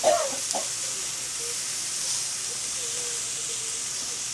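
Shrimp flipped in a hot frying pan with butter pats added, giving a couple of sharp clanks up front followed by a steady, loud sizzling hiss that continues evenly to the end.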